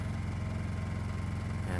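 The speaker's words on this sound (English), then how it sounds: "And that's the sound of the generator from this distance with the Eco Kit." Portable generator fitted with an Eco Kit running steadily at about 30 feet, a continuous low engine drone with a fast regular pulse and no change in level throughout.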